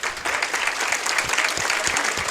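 An audience at a business planning event claps steadily, a dense, fairly loud applause sustained throughout.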